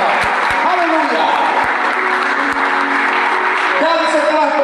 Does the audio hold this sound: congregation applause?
yes